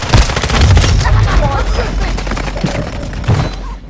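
Rapid bursts of automatic gunfire crackle through a Warzone Mobile battle, dense and loud with some heavier thuds, while a player talks over the shooting.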